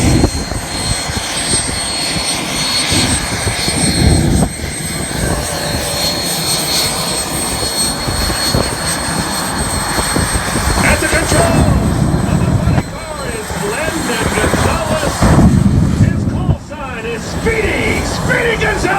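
A jet car roars at an outdoor air show on a cold, blustery day, its engine a loud, sustained broadband rumble that swells and fades, heard under a commentator's running talk.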